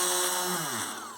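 Somewhat blunt drill bit in a Mecano PCB drill stand with light and vacuum, boring a hole: a loud, steady motor whine that drops in pitch and fades slightly as the bit cuts through.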